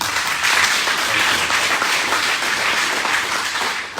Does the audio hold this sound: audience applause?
yes